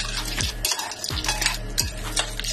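Utensils scrape and clink against a pan in a few repeated strokes while mixing shrimp and crab, with a steady low hum underneath.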